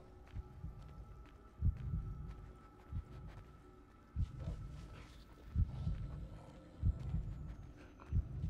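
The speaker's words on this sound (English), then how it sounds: "Track the elk by listening for its heartbeat." An elk's heartbeat in Assassin's Creed III thumps low and steady, about one beat every one to one and a half seconds, under a faint hum.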